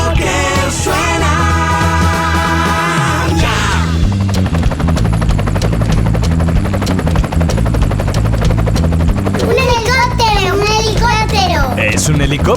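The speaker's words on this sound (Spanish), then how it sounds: "¡Es un helicóptero!" A loud helicopter rotor chop thunders steadily through a children's transport sound quiz, with a sung musical jingle at the start and a voice near the end riding over the engine.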